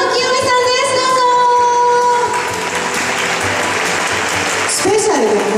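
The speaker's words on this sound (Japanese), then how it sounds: "それでは拍手でお迎えくださいませ。" A festival audition audience in Nagoya claps to welcome a special guest, a television personality; a sustained tone and voice come first, then even, steady applause, with a voice rising over the end.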